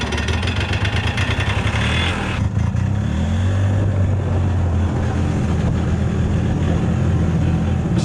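A Yamaha G1 golf cart engine warms up after a cold start on choke, a loud, close, rapidly pulsing small-engine putter that shifts pitch and settles into a steady idle.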